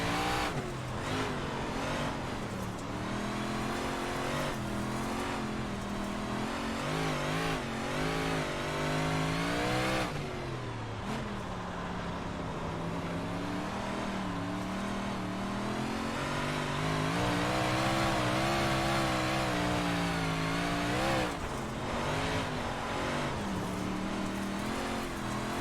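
Dirt race car engines in iRacing at the Port Royal track snarl and rev continuously, pitch rising and falling through gear shifts and acceleration, loud and close with no talking.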